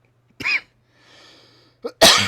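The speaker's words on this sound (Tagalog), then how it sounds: "inuubo talaga ako" Several sharp, close coughs: two separate bursts with a quiet breath between, then a short cough and a louder final one.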